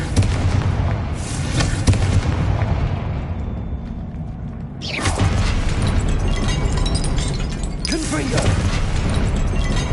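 Hogwarts Legacy combat with the Confringo explosive spell, booming blasts and crackling impacts at about five and eight seconds over a busy rumbling soundscape, with voices speaking amid the fight.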